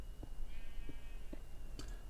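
A single short Minecraft sheep bleat, fairly faint, over a steady background hum with a few soft clicks.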